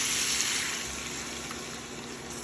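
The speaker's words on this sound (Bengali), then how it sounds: "এখন একটু পানি দিয়ে দিব।" Water pours into a pan of cooking eel fish curry, a soft, steady hissing gush at close range that tapers slightly over a couple of seconds, with no talk.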